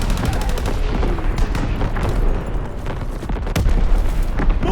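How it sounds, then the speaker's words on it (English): Call of Duty WW2 multiplayer team deathmatch on the Flak Tower map, loud and dense: rapid machine-gun bursts, rattling gunfire and booming artillery impacts overlap in a constant battle din. "Incoming enemy artillery."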